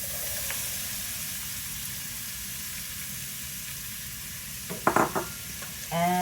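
Red pepper and onion sizzling in hot bacon grease at the bottom of a soup pot, a steady soft hiss with a brief scrape and clatter of stirring near the end.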